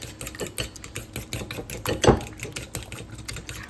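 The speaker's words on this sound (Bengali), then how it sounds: "সেটা ভালো করে মিক্স করে নিব।" Egg being beaten with green chili, salt and sugar in a bowl, a quick run of close, clicking utensil taps against the dish.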